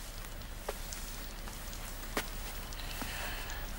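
Steady rain falling on a surface, a constant hiss with a few sharper drips and taps standing out, fairly quiet and with no voices.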